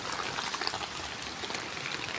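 Rain falls steadily during an outdoor fishing session, a continuous close patter and trickle of water with no talking.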